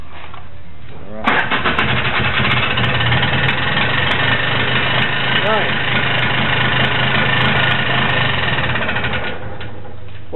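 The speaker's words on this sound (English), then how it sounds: "And over here we got the Polaris 4x4, 300. Hey, can we get a cold start on that?" A Polaris 4x4 300 ATV from 1995, fitted with a plow, catches on a cold start and settles into a loud, steady, close-up idle for several seconds before the engine note drops away near the end.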